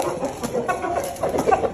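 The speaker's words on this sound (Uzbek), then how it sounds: "mana shular jo'ja deyiladi" Young Shamo chicks peep and cluck continuously at close range, a busy overlapping chorus of small bird calls with no pauses.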